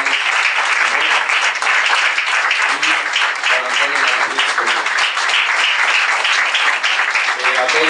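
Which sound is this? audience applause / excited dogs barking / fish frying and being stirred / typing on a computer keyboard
audience applause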